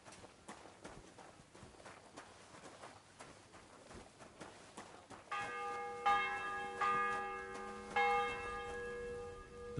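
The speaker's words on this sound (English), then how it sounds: "The bell's ringing for Hans the 5th time." A church bell rings out, its sustained tolls starting partway through and layering over steady footsteps and clip-clop sounds in a busy village or town scene.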